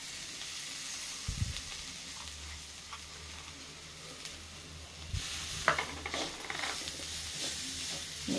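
Ivy gourd (donda) fry with peanut powder sizzling in a pan, a continuous hiss with occasional clatters and scrapes of stirring, close and fairly even in level.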